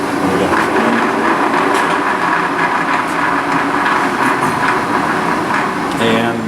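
A LeBlond sliding bed gap lathe runs in reverse with a steady mechanical rumble and rhythmic clatter, loud and close, with a voice speaking briefly over it.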